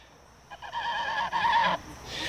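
A goose honks loudly and close by in a harsh, drawn-out double call, then a fainter honk follows as it trails off.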